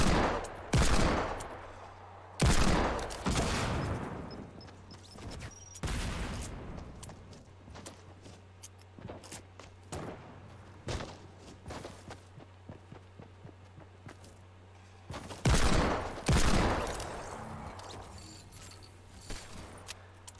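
Paired Desert Eagle pistols fire in a video game: loud sharp gunshot bursts come in clusters with long gaps between them, and footsteps and light mechanical clatter fill the quieter stretches.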